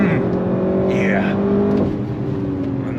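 A 2025 Audi RS7 launches hard under launch control, its engine note climbing steadily and loud and close for a few seconds as a person speaks briefly over it.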